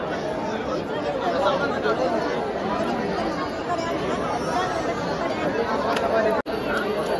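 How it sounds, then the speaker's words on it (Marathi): Dense crowd chatter fills a busy temple pilgrimage site where devotees throw turmeric powder, a steady wash of overlapping voices close and all around with no pauses. "बघा गर्दी गर्दी गर्दी."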